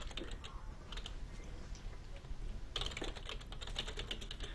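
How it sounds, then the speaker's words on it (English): Rapid keyboard typing during a League of Legends match, a dense stream of close clicks that grows busier and louder in the second half over steady background noise. "The only time I'm going to be typing to them is when I die."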